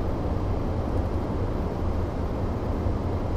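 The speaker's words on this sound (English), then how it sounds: "I really don't like that fucking wind noise, man." Steady broadband wind noise inside an airliner cockpit in the X-Plane 11 flight simulator, a constant loud rush with no variation and no talking.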